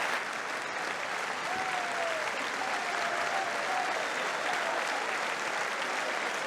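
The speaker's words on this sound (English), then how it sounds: "They're just clapping away at independence." A crowd gives steady, dense applause for the reading of the Declaration of Independence, the clapping even and sustained throughout with no voices rising above it.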